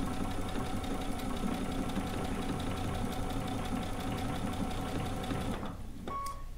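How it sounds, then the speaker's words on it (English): A sewing machine stitches steadily through the fabric of a DIY bucket hat, giving a dense, continuous mechanical whir close by that cuts off just before the end. "Really stitching through it nice and neat."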